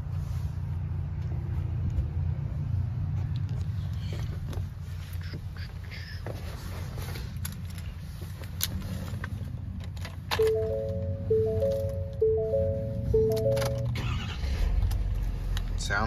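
A 2019 Ford Super Duty F-250 idles with a steady low engine rumble, and a repeating electronic chime joins partway through, the whole heard from inside the cab.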